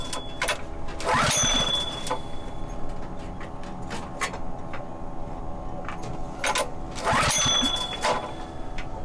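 A dive compressor's small petrol engine sputters and is revved in two bursts, each rising briefly before falling back to a rough, uneven idle.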